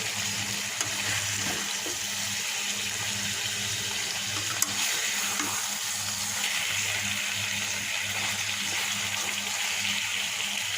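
Rohu fish bhuna frying in a pan gives a steady, even sizzle that runs unbroken throughout, with no voices over it.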